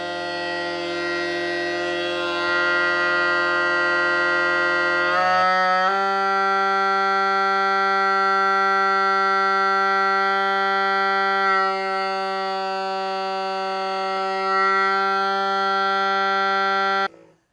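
A set of bagpipe drones, including the outside tenor, sounds as a loud, sustained harmonic-rich hum; partway through, the pitch shifts and settles into a steady chord that holds before cutting off at the end.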